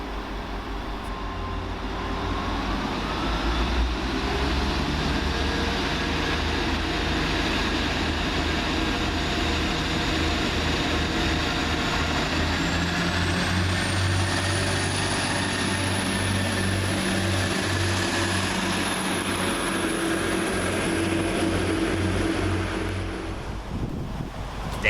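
Transport for Wales class 175 diesel train departing a station, a steady loud engine drone and rumble building and holding throughout with a rising high whine, no talk.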